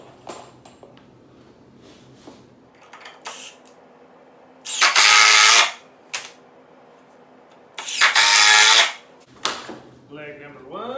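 A power drill drives screws into the legs of a wooden bowyer's bench in two loud, sustained whirring bursts about a second long, with softer handling knocks, clicks and brief speech around them.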